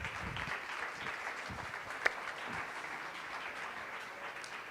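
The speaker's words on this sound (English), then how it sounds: "Please, an applause to him." Audience applause welcoming a guest speaker at a talk: faint, distant, even clapping that runs steadily throughout, with one brief sharp tap near the middle.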